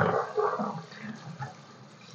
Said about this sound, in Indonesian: Pokoknya nyucinya sampai bersih.